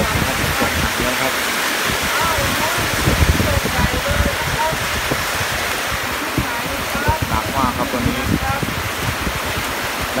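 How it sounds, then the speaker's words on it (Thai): Heavy rain falls at night as a steady, loud, dense wash that does not let up, with a voice faintly under it. "วันนี้ก็ตกอีกแล้วนะครับตกได้ตกดีนะครับ"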